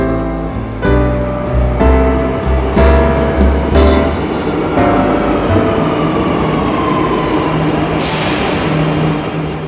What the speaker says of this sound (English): I took the subway back to Microcentro.